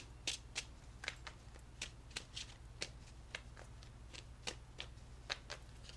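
A deck of tarot cards is being shuffled close by, giving a soft, steady series of crisp flicks and riffles at an even pace. The level is quiet and nobody speaks.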